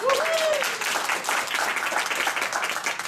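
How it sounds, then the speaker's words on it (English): An audience at a talk gives the presenter Steve a round of applause, dense continuous clapping that stays fairly loud throughout, with a brief whistle-like tone at the start. "Can we give Steve another round of applause?"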